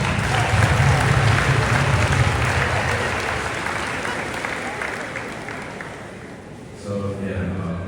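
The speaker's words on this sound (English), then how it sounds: "Clap it up, clap it up." Sustained crowd applause for a Division 4 state champion high school football team at a school recognition assembly, steady and dense before easing off near the end and swelling briefly again.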